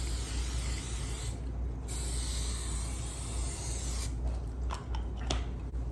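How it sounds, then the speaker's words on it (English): A can of cooking spray hisses out two short bursts into a cake pan, one brief and one a bit longer, with soft clicks and rattles of handling in between. "I'm gonna be using some spray for my pan"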